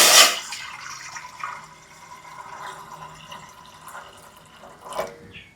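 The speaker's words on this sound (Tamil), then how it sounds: "தண்ணி தண்ணி ஊற்றுரும்." Water pours into a metal cooking pot at close range, with a burst of splashing at the start and then a steady, softer trickle.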